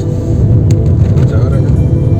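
Heavy construction trucks passing by on a rough, potholed road near Adampur, a loud deep rumbling drone with bumping, steady and close for the whole stretch.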